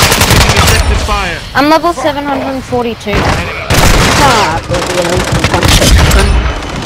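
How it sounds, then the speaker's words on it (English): Loud, dense shotgun fire and blasts from a Call of Duty match pound almost continuously, with a voice talking over the gunfire throughout. "I just sprayed my shotgun."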